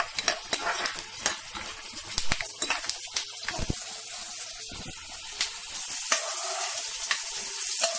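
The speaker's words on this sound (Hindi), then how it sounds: "तो चलिए पहले मूंगफली को तल लेते हैं" Peanuts frying in a pan, with continuous soft sizzling broken by frequent sharp clicks and scrapes of stirring, close and moderately quiet, with no talk.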